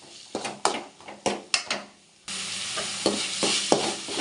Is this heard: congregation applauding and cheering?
no